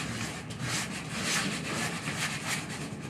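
Coarse 80 grit sandpaper rubbing foam for a battle axe build, a close, continuous scratchy rasp with rhythmic back-and-forth strokes and no talking.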